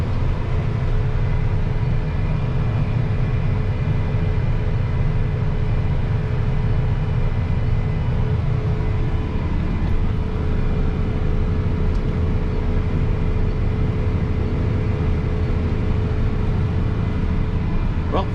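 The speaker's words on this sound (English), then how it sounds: "the tractor also just takes right off, and it's going to jump up to about 14 miles per hour here in the field" A John Deere 8R 280 tractor pulling an Amazone three-point fertilizer spreader through a cotton field gives a steady, loud low engine drone as it accelerates, with someone speaking over it.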